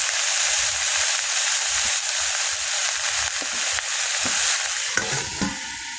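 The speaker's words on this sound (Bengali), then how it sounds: "লবণ দিয়ে ভেজে রাখলাম" Garden vegetables fry with salt in a covered pan, giving a steady, close sizzling hiss throughout, with a few soft stirring clinks near the end.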